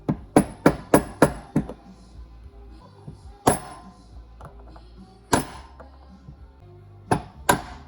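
Hammer tapping a punch to drive a pin out of a Mikuni flat slide carburetor from a GSXR750, a quick run of sharp metallic taps followed by a few isolated, spaced-out strikes, close and crisp.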